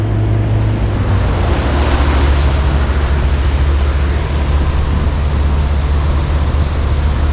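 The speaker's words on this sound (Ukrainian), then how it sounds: "І шумно, і вітер боковий тут незручний." Loud, constant crosswind roar buffeting the microphone at a city waterside fishing spot, with a low rumble of surf underneath and no voices.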